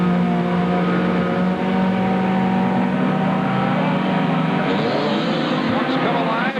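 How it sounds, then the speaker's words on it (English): Stadium race trucks at Sun Devil Stadium in Phoenix in 1993 roar to life and pull away together, a loud, continuous engine drone that climbs in pitch toward the end. "Trucks come alive, and we are off."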